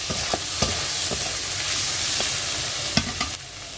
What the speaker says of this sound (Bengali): একটি বড় চামচের হাফ চামচ লবণ দিয়ে ভালো করে আবারও নেড়ে চেড়ে নিলাম